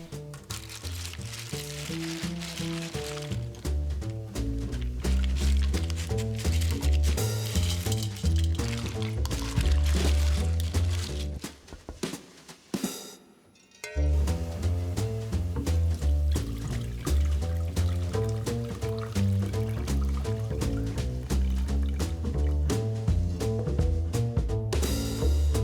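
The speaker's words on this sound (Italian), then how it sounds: "Vogliamo filtrare il brodo ancora una volta per rimuovere gli ultimi granelli di sabbia." Seafood broth poured and strained through a filter, a steady trickling, splashing flow close up that runs continuously with a short pause midway, accompanied by background music.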